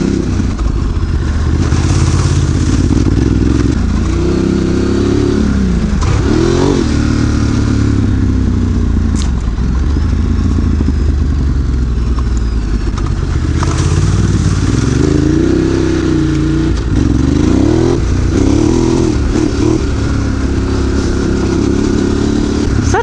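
Ducati Desert X Rally motorcycle launching hard and accelerating on a ride, loud steady engine roar with rising and falling revs and gear changes throughout, wind rush over the top.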